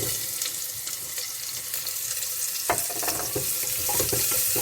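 Onions frying in a pan for a manthakali keerai (black nightshade greens) dish, giving a steady close sizzle with occasional stirring clicks and scrapes.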